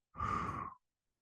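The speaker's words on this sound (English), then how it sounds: "In through the nose, filling up, and exhaling through the mouth." One slow, deep breath is let out through the mouth during a calming breathing exercise, a soft, breathy exhale lasting under a second, heard alone and up close.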